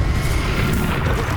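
A Confringo blasting spell in the Hogwarts Legacy video game goes off as a loud, dense low rumbling burst that fills the short moment without letup.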